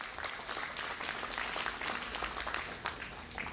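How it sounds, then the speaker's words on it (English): Audience applause at a televised Illinois political event with the Governor present, a steady dense patter of many hands clapping, moderately loud and continuous for a few seconds. "let's give them a round of applause for that"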